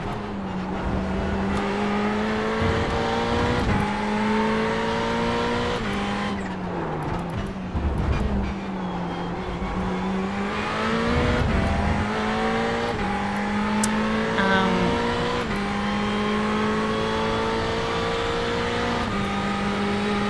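A Ferrari 488 GT3 engine in a racing video game drops through gears at Le Mans; a steady high engine drone dips with sharp rev changes on each downshift, then climbs again under acceleration, with no voice over it.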